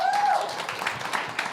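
Applause from a seated audience at a venture capital panel event, welcoming a software services company representative to the stage; dense, steady clapping at moderate distance, fading slightly over a second and a half.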